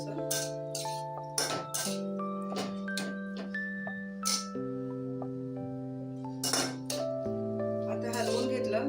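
A spoon clinks against a bowl while corn chaat with red chili sauce is stirred, giving a few sharp metallic taps over steady background music.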